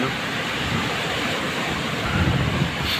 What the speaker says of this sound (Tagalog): Lalakas kasi ng alon tapos hangin.